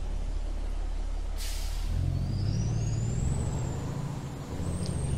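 A diablo rojo bus braking in a driving game on a Mexico map, a low engine rumble with a sharp hiss of air brakes and a whining tone rising and falling.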